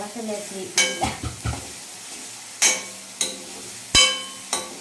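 Food frying in a pan while it is stirred: a steady sizzle under a series of sharp scrapes and clinks from the utensil, spaced irregularly and close by, with no talking.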